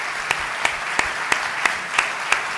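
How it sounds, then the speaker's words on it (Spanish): Dense, steady applause from an audience at an economics conference fills the whole stretch, with a few sharper claps standing out at regular intervals. "así que un aplauso para ellos"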